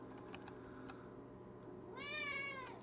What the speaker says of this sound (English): Oh, there's my cat. Loves to scream into my microphone.